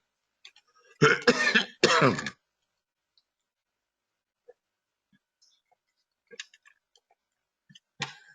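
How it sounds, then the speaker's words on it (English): Two close, forceful coughs or throat clearings from a dry throat break an otherwise quiet room, followed by scattered faint clicks and small noises. "please excuse the little bit of coughing that I can't quite avoid"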